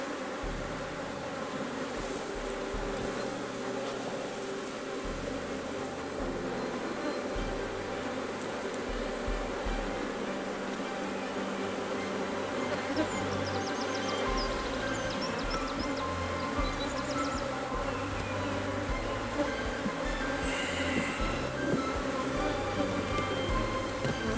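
Honey bees in an open hive during an inspection make a steady, continuous buzzing drone throughout, close and even, with occasional faint handling noises over it.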